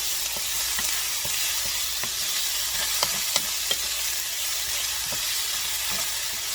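Fresh garlic, with onions, sautéing in a pan: a steady low sizzle runs throughout, broken by soft scattered clicks and taps of stirring, fairly close with no talking.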